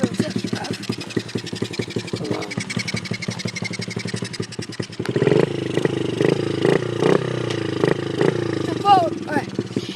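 A four-stroke dirt bike engine runs on a test drive: a rapid, even putter at first, then louder, rougher revving with surging pitch swells, and a voice talks over it.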